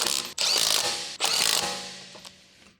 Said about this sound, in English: Use a large 17mm deep socket with a large electric impact wrench.